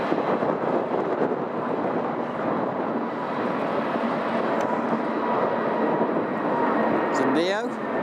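An Airbus Neo airliner at Manchester Airport produces a steady, broad jet roar that fills the whole stretch at constant strength, heard outdoors with wind buffeting the microphone and a brief whooshing sweep near the end.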